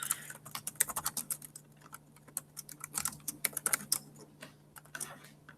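Someone types on a computer keyboard while editing on-screen text. The clicks come close and crisp in irregular runs, with short pauses between bursts and a faint steady hum underneath.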